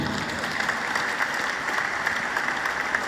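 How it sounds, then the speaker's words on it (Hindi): An audience applauds the ad hoc committee at the Senior National Volleyball Championship 2025, with steady, dense clapping that holds at an even level for the whole stretch and no clear speech over it. "एक बार एडहॉक कमेटी के लिए जोरदार तालियां बनती हैं।"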